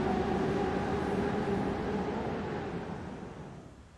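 A simulated train runs on the Leipzig–Riesa route in Train Simulator Classic, giving a steady rolling rumble with a low mechanical hum that fades slightly toward the end. No one speaks.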